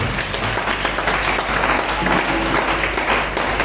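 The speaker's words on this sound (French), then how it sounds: "Acclamons le Seigneur pour sa parole" A church congregation applauds in a steady, dense wash of clapping that holds for several seconds with no voices over it.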